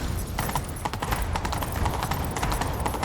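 Horse hooves clatter in a fast, irregular clip-clop during a chase in The Witcher 3: Wild Hunt, a close, busy rhythm of hoofbeats with no voices over it.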